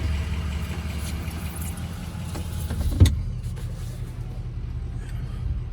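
A 2004 Ford Excursion with the 6.0 diesel turns over partway through, a loud low rumble swelling briefly before settling into a steady, continuous idle that fills the rest of the moment.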